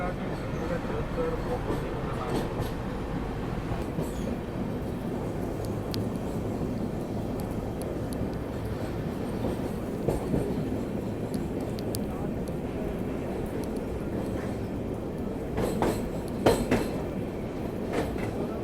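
The Rajdhani Express rolls across a large dam carrying both rail and road traffic, a continuous heavy rumble with rhythmic wheel clatter and occasional sharper knocks throughout.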